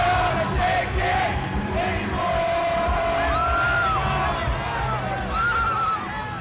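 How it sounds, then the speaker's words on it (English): A large crowd at a Donald Trump campaign rally roars and cheers loudly and continuously, with shrill whoops and whistles rising above the dense mass of voices. "On this night, Trump owns the crowd."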